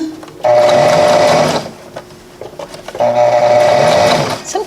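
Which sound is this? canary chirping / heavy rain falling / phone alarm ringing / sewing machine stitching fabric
sewing machine stitching fabric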